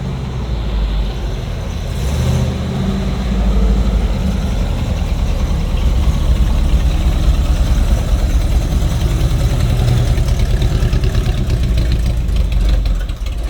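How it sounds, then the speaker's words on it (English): A 1959 Napco truck engine idles loudly and close up, with a steady low rumbling chug that picks up slightly partway through and runs throughout with no talking. "Oh my gosh, this is a feisty little engine too when you get into it."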